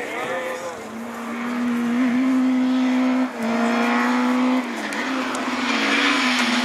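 Rallycross race cars at full throttle on the Lessay circuit in the Division 4 class, loud sustained engine drone with rising and falling revs as cars pass, a brief dip mid-way, and a commentator talking over the noise.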